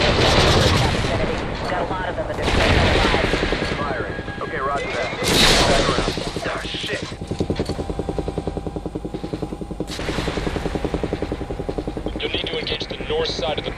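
Gunfire in Call of Duty: Ghosts, campaign mission "Birds Of Prey": loud bursts and booms over a steady helicopter rotor drone, with voices talking over the action.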